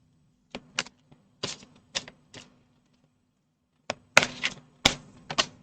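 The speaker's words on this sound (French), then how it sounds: "je vais tirer une autre carte" Tarot cards drawn and handled on a table: a series of sharp slaps, snaps and thuds in uneven bursts, close and fairly loud, with a quiet pause midway and no talking.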